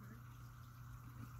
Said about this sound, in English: Hear the water flowing again. I guess it's filling up the pressure tank.